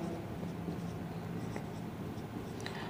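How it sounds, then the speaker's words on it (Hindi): A steady, scratchy stroke of writing on a board during a physics lesson on alternating current continues at a soft, even level with faint taps and no talk. "चाहो तो मैं यहाँ पे लिख देता हूँ cos फाई।"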